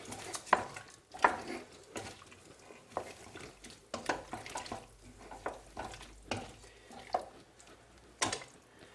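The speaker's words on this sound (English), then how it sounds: "And then add the lentils. Lovely, stir." A spoon stirring vegetable soup with added lentils in a pot, giving irregular wet sloshes and knocks against the pot, several distinct bursts separated by brief quiet moments, close by.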